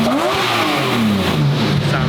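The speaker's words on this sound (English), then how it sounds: "this apparently has a factory sport exhaust. That's why it sounds better." A car engine revs and climbs through a factory sport exhaust, a loud, close rising-and-falling drone lasting a couple of seconds with no talk over it.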